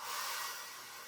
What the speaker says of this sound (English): now I'm gonna hit it with the blow dryer for a second